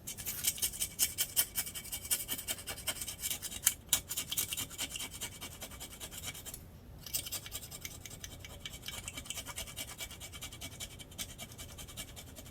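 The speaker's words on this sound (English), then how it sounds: "So I keep all my old gaskets because they are better for scraping than a razor blade." An old gasket scraped by hand across a motorcycle engine surface while finishing a Kawasaki KE100 engine: a quiet, rhythmic rasping rub with repeated short strokes, fading to lighter scratching later, with no talk.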